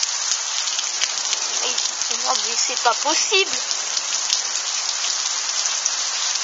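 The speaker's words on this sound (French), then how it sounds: "regardez, la pluie qui tombe." Heavy rain pours down in a strong multicellular thunderstorm in the French countryside, a dense, steady hiss of drops close by, with a person talking briefly over it midway.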